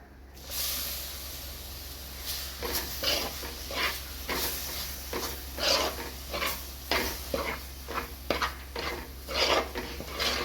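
Spice powders for a kudampuli karimeen fish curry are stirred in a pan, making a steady sizzle with repeated rhythmic scrapes and clinks of a spoon against the metal, close and continuous, with no talking.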